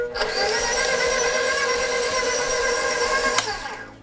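Stand mixer beating cream cheese, sugar and flour on low speed for a cheesecake batter, a steady continuous motor whir with beater rattle that runs unbroken and close, ending with a brief clack.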